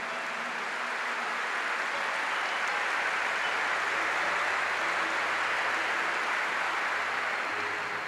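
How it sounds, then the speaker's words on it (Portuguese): A church audience applauds the community's workers with sustained, even clapping that fills the whole stretch at steady loudness, without talk over it. "E eu quero que vocês aplaudam essas pessoas que se entregam e gastam a vida."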